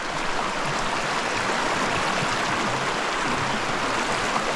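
A small Colorado creek, a fork off a bigger creek, flowing steadily with a constant, full rushing and babbling wash, close by and with no voices.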